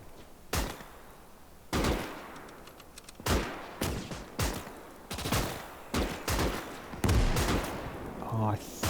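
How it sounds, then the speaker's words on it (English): A hand grenade and other battle blasts in the World War II strategy game Gates of Hell, with sharp loud explosive bursts repeating every second or so, and someone talking between them. "That's the hand grenade."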